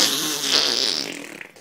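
A human voice mimics a long, loud, sputtering fart with a wet, buzzing flutter that fades out near the end.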